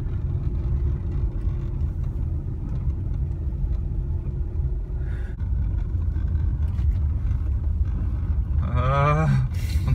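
A four-wheel-drive car drives along a beach, its engine a steady close rumble and whir throughout, with a brief rising whine near the end.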